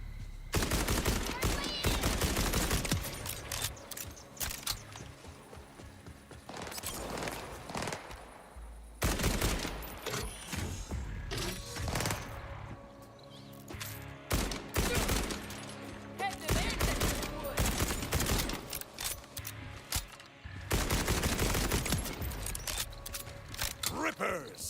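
Gunfire in Borderlands 4, loud rapid automatic bursts and clattering weapon sounds recurring in waves throughout, with a voice speaking between volleys.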